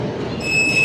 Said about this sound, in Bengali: ট্রেন কিন্তু অলরেডি প্ল্যাটফর্মে ঢুকে গেছে।